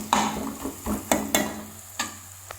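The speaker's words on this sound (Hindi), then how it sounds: "मसाला पक चुका है, मैंने इसमें डाल दी भिंडी। भिंडी देखो अब ये थोड़ी देर पकेगी" Okra stirred into spiced onion masala in a pan, with a soft sizzle and a few scraping stirs and utensil knocks close by, without talk.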